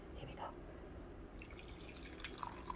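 Cinnamon hazelnut caramel coffee is poured into a cup, a soft, faint liquid dribble and drip sounds under a steady low background hum.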